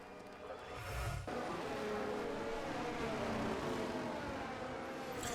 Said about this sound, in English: we see the parade of cars heading into the pits